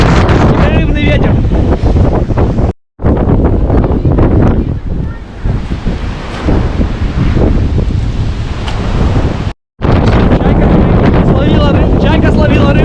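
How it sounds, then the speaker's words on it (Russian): Strong, continuous wind buffets the microphone at the ocean shore with boats nearby, a loud steady roar with gusty swells filling the whole stretch, broken by two brief cuts; a voice speaks over it. "Ветер вздувает, он непрерывный."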